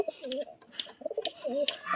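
Close pigeon cooing from a hen bird of a breeding pair, several rolling coos in quick succession over about two seconds with faint wingy background rustle.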